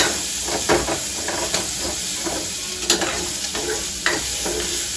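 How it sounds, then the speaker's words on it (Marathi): Ginger and other ingredients fry in oil in a pan until golden, giving a steady hiss of sizzling broken by occasional scraping strokes as they are stirred. "छानपैकी आता हे आपण गोल्डन भाजल्यात."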